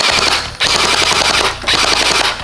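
An MP9 gel blaster fires on full auto in two long, loud rapid bursts separated by a brief pause, its buzzing rattle close and continuous.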